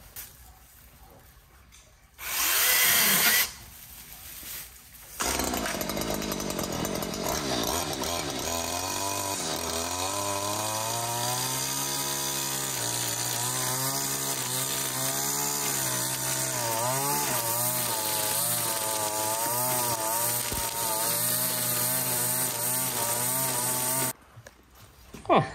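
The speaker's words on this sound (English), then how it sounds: "We're gonna try and cut it off with the chainsaw first" A small chainsaw, run without its guard, rips loudly and steadily through spiky branches for nearly twenty seconds, its pitch rising and falling as it bites into the wood, with a brief louder burst just before the cut.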